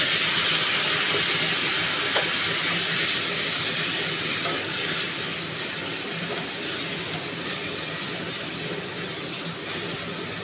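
Water hits frying masala in a pan, bursting into a loud, continuous steam hiss and sizzle that holds steady and eases slightly toward the end, heard alone without voices.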